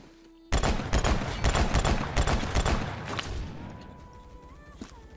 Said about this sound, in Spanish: Con 3 enemigos al frente, les disparo y yo, mis balas no hacen daño.